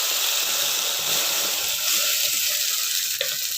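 Ground masala paste poured into hot oil in a pan for capsicum egg thokku, giving a steady loud sizzle and frying hiss throughout, with a faint clink near the end.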